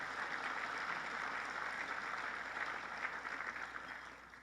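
Faint, distant applause from a crowd at a governor's public event, a soft steady patter of many hands lasting several seconds at low volume.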